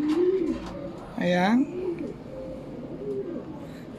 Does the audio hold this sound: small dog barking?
no